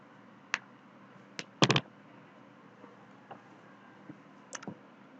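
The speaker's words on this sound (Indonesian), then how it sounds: "caranya boleh Anda klik kanan" Sharp computer mouse clicks ring out in a quiet room, scattered single taps with a quick double click near the start, close to the mic with no talking.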